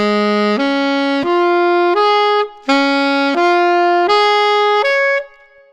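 A brass instrument plays two four-note groups, descending step by step, each group opening with a tongued attack and the rest slurred, with a short break between groups; the tone is clear, loud and close, with no talk.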